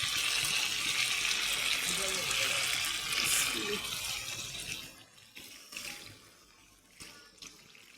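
Water poured into a cooking pot of meat that has been browned until tight, a dense steady gushing splash for about five seconds that then thins into quieter trickles and light kitchen clatter.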